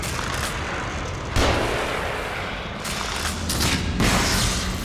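Gunfire from the horror video game The Evil Within, a dense run of booming shots and blasts over a continuous roaring background, loud and close with sharp bursts around the middle and end.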